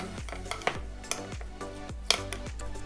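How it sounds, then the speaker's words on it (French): A spoon stirring green curry paste mixed with Tellicherry pepper in a bowl, several scraping strokes with a few sharp clinks of metal against the dish, close and clear without talk. "On mélange"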